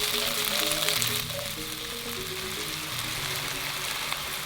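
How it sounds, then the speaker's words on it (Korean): Pad thai rice noodles stir-fry in a hot pan with a loud, steady broadband sizzle, joined by occasional scraping and tossing sounds, no one speaking over it. "자, 이렇게 다 볶아주시고요."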